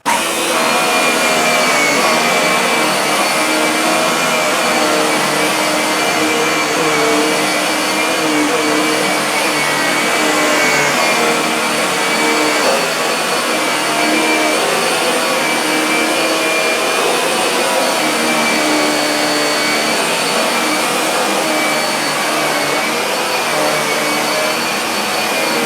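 A Hoover Velocity cordless upright vacuum cleaner runs on carpet, giving a steady, loud, close motor whine and airflow roar that holds unbroken throughout, with no talking.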